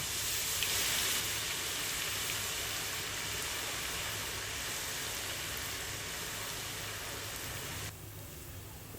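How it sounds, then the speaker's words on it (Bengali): Potatoes fry in plenty of hot oil in a wok, a continuous faint hiss and sizzle that stays steady throughout, close by with no voices. "একটা কড়াইতে বেশ খানিকটা অয়েল গরম করে এতে আলু দিয়ে অনবরত নেড়ে গোল্ডেন কালার হওয়া পর্যন্ত ওয়েট করব"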